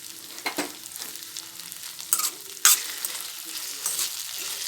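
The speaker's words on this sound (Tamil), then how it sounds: "பூண்டு போட்டு கொஞ்சம் நேரம் பரட்டிட்டு" Garlic frying in hot oil for moong dal kurma makes a soft continuous sizzle, broken by several sharp clinks and scrapes of a spoon stirring the pan, with no voices.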